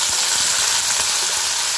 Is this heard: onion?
yes